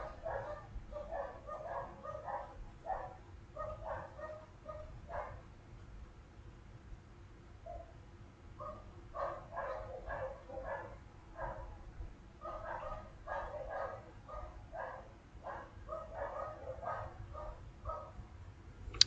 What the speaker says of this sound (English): They have incessant dogs that bark for anything.